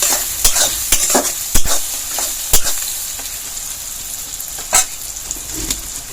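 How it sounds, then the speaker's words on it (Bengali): Tomato and onion frying with salt and turmeric in a pan, a loud steady sizzle broken by several sharp clacks and scrapes of a spoon stirring, close up and without talk. "নুন হলুদ দিয়ে এভাবে টমেটো পেঁয়াজটা ভাজলে টমেটোটা পেঁয়াজটা তাড়াতাড়ি নরম হয়ে যাবে, একদম লালচেও হবে।"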